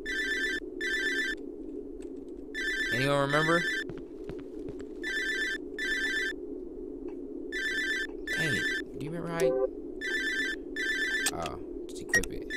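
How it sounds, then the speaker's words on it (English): In the Cry of Fear video game, a telephone rings with repeated electronic double bursts spaced out over the whole stretch. A voice speaks over it between the rings. "How do I answer the phone?"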